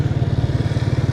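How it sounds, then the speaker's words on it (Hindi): A motorcycle engine, just kick-started, runs at a steady idle with a quick, even low thump, close and fairly loud and on its own. "अभी बैठते हैं बाइक पे, किक मारते हैं और सीधा रवाना होते हैं।"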